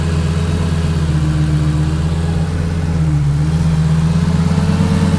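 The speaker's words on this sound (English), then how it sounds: "And here is our V10 engine" The V10 engine of a 2004 Lamborghini Gallardo idling steadily, a smooth close hum that stays even throughout with no other sounds.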